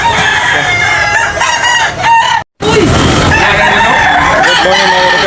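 Crowded poultry auction market full of chickens and roosters, with several loud overlapping crows and clucks layered together in a dense, continuous din, broken by one brief dropout.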